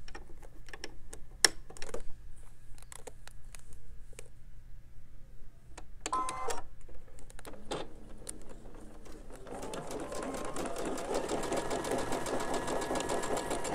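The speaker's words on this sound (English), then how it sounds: "stitch a quarter of an inch from that line" A sewing machine stitches quilt pieces, first in short separate bursts of rapid ticking with pauses between, then in a continuous steady run of stitching near the end, close and fairly quiet.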